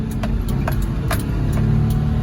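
Daihatsu HiJet kei truck engine pulling in first gear, a steady mid-pitched drone with a low rumble that holds at a constant level throughout, joined by faint rattling or jingling from inside the cab.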